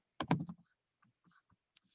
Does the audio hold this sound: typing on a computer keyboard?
yes